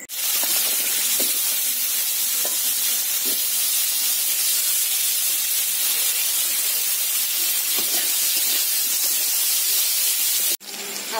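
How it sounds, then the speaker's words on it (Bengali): Potatoes fry in hot oil left over from frying fish, giving a loud, steady sizzling hiss that fills the whole stretch with no one talking. "এখন ওই তেলে আলুগুলা ভেজে নেব।"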